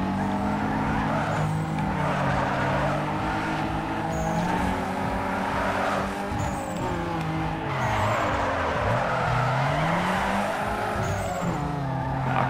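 A car drifting in Need for Speed Underground 2, engine revving hard with continuous tire squeal rising and falling through long slides, loud and unbroken throughout.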